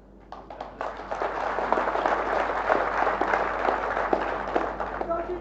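A crowd at a political rally in Maharashtra breaks into sustained applause, dense clapping that swells and holds for several seconds, with a voice briefly audible over it.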